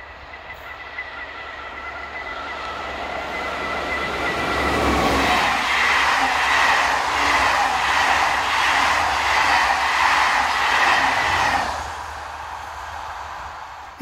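An SNCF BB15000 electric locomotive approaches Romilly-la-Puthenaye in Normandy, its quiet distant hum swelling into a loud rush and rhythmic rail clatter as it passes close by, then easing off, with no voices.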